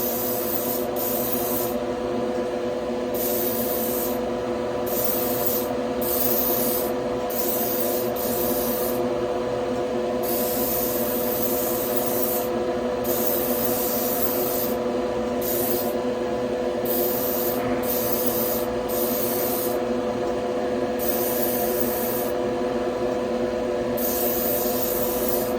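A spray gun lays the final coats of paint on the hood of a 1970 Chevelle, a continuous close hiss with short on-off pulses as each pass starts and stops.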